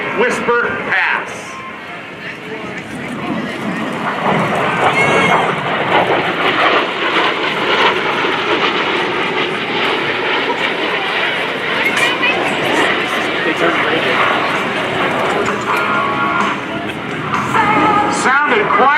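An F/A-18F Super Hornet flies an inverted low, slow pass at an airshow, making a loud, sustained, broadband jet roar that holds steady throughout, with a commentator talking over it.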